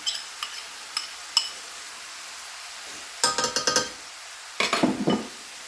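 Ground pork with peppers, onions and garlic is stirred in a pan: light sizzling with a few early clinks, then two bursts of rapid scraping and clattering utensil strokes against the pan.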